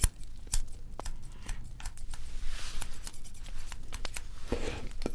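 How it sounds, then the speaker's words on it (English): Barber's scissors snip through hair in a luxury haircut, a close series of crisp, irregular metallic clicks and snips over a quiet background, with no talking. "then we're going to get our scissors"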